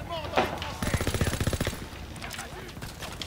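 Gunfire in the World War II video game Call of Duty: a single loud shot, then a rapid automatic burst of about a dozen evenly spaced rounds, fading into softer distant shots.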